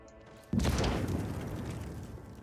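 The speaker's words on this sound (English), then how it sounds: "A frag grenade explosion cuts off the rest of his words." A frag grenade detonates in Warhammer 40K: Rogue Trader, a sudden loud boom after a quiet moment, followed by a long rumbling decay that fades slowly with debris-like crackle.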